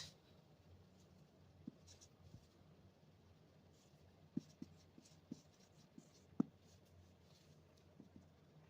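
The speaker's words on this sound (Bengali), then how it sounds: "বাংলায় লিখে দিচ্ছি" Writing by hand during a maths lesson on area, a faint soft scratching of pen or chalk with a few sharp taps, close and quiet with no talking.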